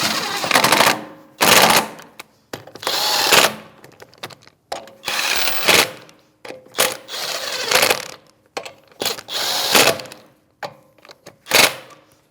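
Rear shock absorber bolts on a 2016-2025 Chevrolet Malibu being run down with a power tool and a 19 mm socket: about eight loud, rattling mechanical bursts separated by short pauses, close up, with no talking.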